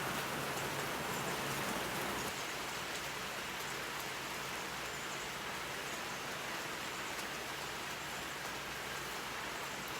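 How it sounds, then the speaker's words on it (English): Steady rain falls across the whole stretch, a dense even hiss of drops on surfaces, close and continuous with no voices over it. "Hear the rain."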